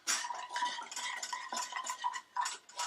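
Butter, syrup and sugar stirred in a pan for a banoffee cake: rapid scraping and clinking of a utensil against the pan, close and continuous with short pauses, no talking.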